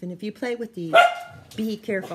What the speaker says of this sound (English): That's my dog, my little Cocker Spaniel